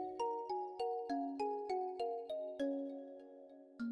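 A bright chime sound effect plays as a notification bell cue, a run of about ten ringing bell tones stepping downward in a steady rhythm, each decaying briefly, clear and alone.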